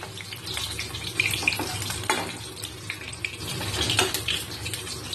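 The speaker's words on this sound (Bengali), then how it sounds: "কড়াইতে আমি মাছ ভাজা চাপিয়ে দিয়েছি, মাছগুলো প্রায় হয়েও এসছে ভাজা।" Katla fish frying in a wok, a continuous moderate sizzle with scattered small pops and crackles throughout, close and without speech.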